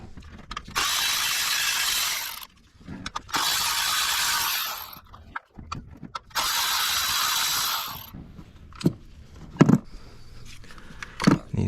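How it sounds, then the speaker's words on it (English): A ratchet wrench loosens 10mm valve cover bolts on a Nissan 4.0 V6 engine, heard as several close, loud bursts of rapid clicking separated by pauses, followed by scattered metallic clinks and taps. "Next, we're gonna remove the 10mm bolts holding them in."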